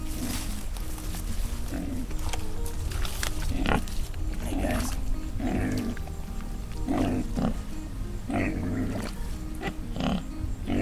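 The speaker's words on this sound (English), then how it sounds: "Got some happy pigs over here playing in the mud." Several pigs grunt and oink in repeated bursts while playing in a muddy wallow inside a farm pen, close and fairly loud over steady background noise.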